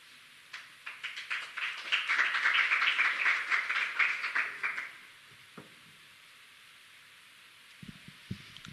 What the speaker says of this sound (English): But we hope that you're clapping for those learners